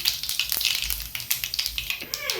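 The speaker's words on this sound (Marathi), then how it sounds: "हा पॅन ठेवलेला आहे गरम व्हायला व त्यामध्ये तेल टाकलेलं आहे यामध्येच मोहरी व जिरे घालायची" Mustard seeds and cumin crackle and sizzle in hot oil in a pan, a steady bright hiss with dense popping spatter throughout, close and continuous.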